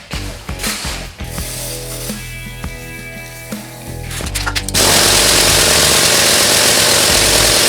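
Rogue Fab tube bender working a roof rack tube, with loud mechanical ratcheting clicks and creaks, then a sudden steady loud mechanical roar through the final seconds.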